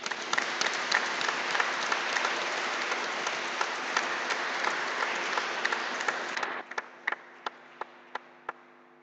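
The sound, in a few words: applause for the few people standing in church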